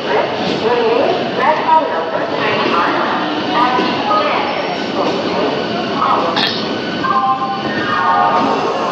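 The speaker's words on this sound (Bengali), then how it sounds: "আমাদের ট্রেন কিন্তু ইতিমধ্যে হাওড়া স্টেশন থেকে ডিপার্চার হয়ে গেল।" A passenger train pulls out of Howrah station on the Howrah to Bolpur run, its rolling rumble and clatter steady beneath nearby people talking.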